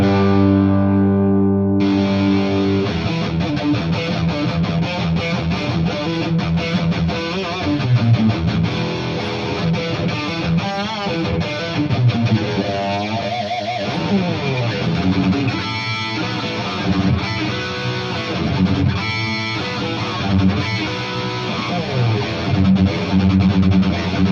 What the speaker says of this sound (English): It's a bit of a more distortion now.